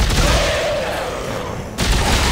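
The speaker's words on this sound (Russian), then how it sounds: "мы взяли эту пушку скорострельную" Rapid-fire gun shooting from the sci-fi horror video game Dead Space 3: a dense, continuous burst of loud gunfire that drops off briefly near the end, then resumes at full intensity.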